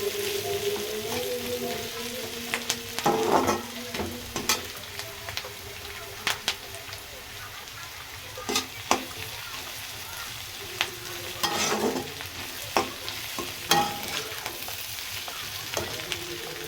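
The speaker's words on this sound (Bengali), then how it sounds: "তো আমি আলুর সাথেই ভেজে নিচ্ছি। পেঁয়াজটাও আলুর সাথে সাথে আরও একটু ভাজা ভাজা হয়ে যাবে।" Potatoes and onions fry together in a pan, a continuous sizzle broken by repeated scraping stirs and clanks of a spatula, close and fairly loud throughout.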